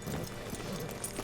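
Horse hooves clip-clop steadily in Red Dead Redemption 2, a continuous muffled patter of hoofbeats at moderate distance with no talk over it.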